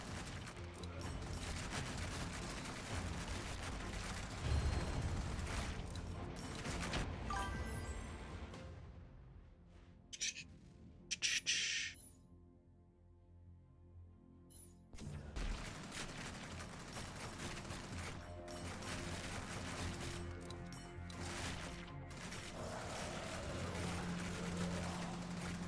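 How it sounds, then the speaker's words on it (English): Homing missiles fire in the video game R.I.P, a dense, loud barrage of rapid launches and explosions that runs almost continuously, dipping briefly in the middle before resuming at full intensity. "Homing missiles."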